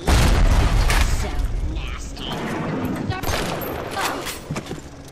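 Automated turret gunfire in the video game Bioshock: dense bursts of shots and booms, loudest at the start, then continuing more unevenly, with a person's voice talking over parts of it.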